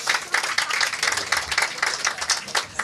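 Audience at a press conference for the Tulipani di Seta Nera international short film festival applauds a singer-songwriter, a dense, fairly loud run of clapping that carries on evenly for a few seconds.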